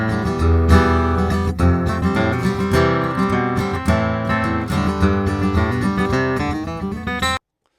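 An acoustic guitar's pickup signal, processed through a ToneDexter II to imitate a miked guitar, plays strummed chords and picked notes at a steady level for about seven seconds before stopping abruptly.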